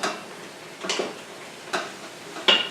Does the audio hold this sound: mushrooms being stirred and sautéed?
yes